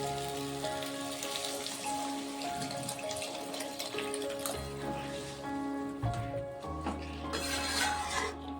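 Water pours into a pan of muri ghonto cooking with fried fish heads and potatoes, a close, continuous splashing stream with brief metallic clinks of the pan.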